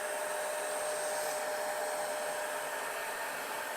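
Steady hiss of a hair dryer blowing over the central locking control unit circuit board from a Porsche Boxster 986, a constant, unbroken airflow with no voices.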